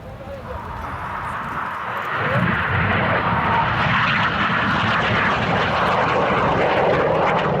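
Red Arrows BAE Systems Hawk T1 jets roar past at RIAT 2012, a broad jet rumble swelling louder midway and holding steady, while an announcer talks over the display.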